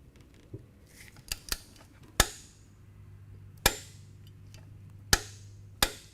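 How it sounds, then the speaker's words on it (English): Torque wrench set to about 16 foot-pounds tightening the primary cover bolts on a Harley-Davidson motorcycle: several sharp, isolated clicks spaced a second or more apart, close and fairly quiet, with small ratcheting ticks before them and no talking. "you'll want your torque wrench set at 14 to 21 foot-pounds of torque"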